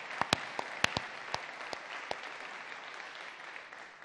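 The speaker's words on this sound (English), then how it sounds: "So can we give them an incredible round of applause" A conference plenary audience on global governance breaks into a round of applause, a dense steady patter of many hands with a few sharp, loud claps standing out early, then settling into an even clapping wash for the remainder.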